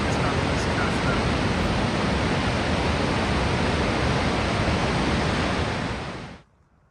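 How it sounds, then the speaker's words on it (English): A powerful waterfall on the Foothills Trail roars as a dense, unbroken wash of rushing water, loud and close, holding steady for several seconds before cutting off. "Some sense how powerful this waterfall is."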